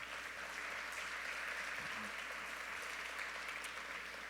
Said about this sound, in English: A huge round of applause deserved.